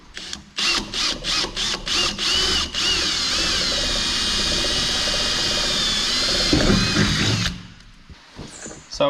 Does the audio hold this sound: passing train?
no